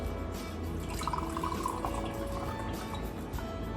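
Pineapple juice poured through a kitchen strainer for a Hawaiian spicy chicken wing marinade, a faint, steady liquid trickle with light dripping throughout.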